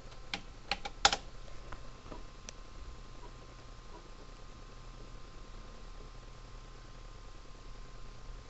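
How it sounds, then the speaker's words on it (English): Keys clatter on an old laptop keyboard while an MS-DOS command is typed, a quick cluster of sharp clicks in the first two seconds, then only faint scattered taps over a low steady hum. "So what you want to do now is type in sys"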